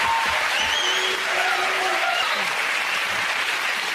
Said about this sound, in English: We'll come off the applause again.